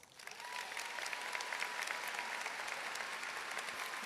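A high school graduation audience gives the class of 2025 a round of applause, a faint, distant wash of many hands clapping that builds quickly and holds steady for several seconds.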